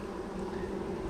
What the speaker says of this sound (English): Now there seems to be a pile of bees there